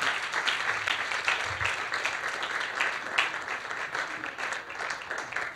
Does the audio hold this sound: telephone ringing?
no